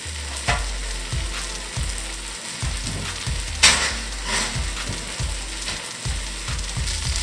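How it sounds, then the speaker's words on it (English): Onions browning in a pan for French onion soup sizzle steadily while a utensil scrapes and stirs through them in repeated strokes, close and continuous with no talk. "Stir your onions often to make sure they brown evenly."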